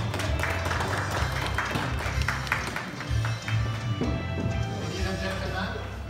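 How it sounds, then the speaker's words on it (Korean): Applause from the audience at a Citroen DS7 Crossback launch event fills the hall as a soft, scattered patter of clapping, with a presenter's amplified voice speaking over it. "큰 박수 부탁드리겠습니다."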